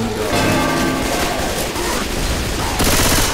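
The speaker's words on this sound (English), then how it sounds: "Just keep shooting. Everyone shoots the tank." Gunfire in the Left 4 Dead 2 video game during a finale fight against a tank: sustained, loud rapid automatic shooting fills the whole stretch with dense overlapping bursts, without clear speech on top.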